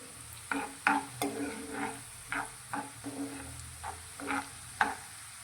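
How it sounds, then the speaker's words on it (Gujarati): Onions being stirred and sautéed in a pan for a green chickpea curry, a quiet sizzle broken by about a dozen rhythmic scrapes and knocks of a spoon against the pan, close and without speech. "સારી રીતે સંતળાય ત્યાં સુધી આ રીતે હલાવતા રહીશું"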